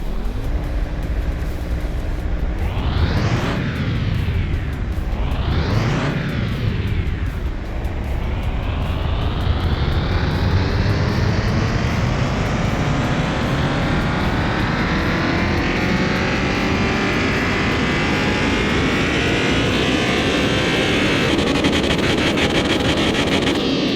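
A car engine in Car Mechanic Simulator 2021 is run on a dyno: two rising-and-falling revs, then one long continuous climb to high revs, loud and close with no talk over it.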